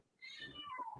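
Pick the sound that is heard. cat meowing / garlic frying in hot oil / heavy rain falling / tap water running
cat meowing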